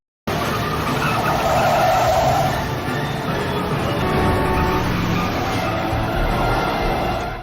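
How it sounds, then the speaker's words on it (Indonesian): Car tires skid and squeal loudly through a reckless street chase, a sustained broadband screech with engine roar lasting several seconds, no talk over it. "Frank bahkan sampai nekat berkendara ugal-ugalan demi bisa mengejar Peter dan menyelamatkan anaknya yang membuat adanya kekacauan di jalan"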